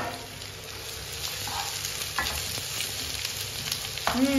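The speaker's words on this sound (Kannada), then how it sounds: "ನೀರುಳ್ಳಿ ಎಡ್ಡೆ ಫ್ರೈ ಆಗೋಡು" Onions frying in a pan for chicken sukka, with a steady close sizzle, a few scraping stirs, and a louder burst of spatter near the end.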